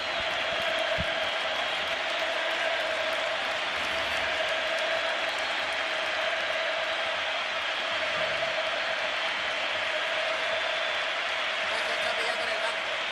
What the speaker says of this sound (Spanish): aún así hay ovación para el capitán del Barça